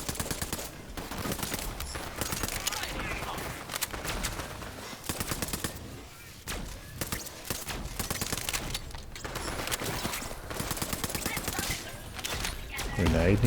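Rapid bursts of SMG fire in Borderlands 3, sharp rattling volleys repeating in quick clusters with brief pauses between them, loud and close, with game effects mixed in.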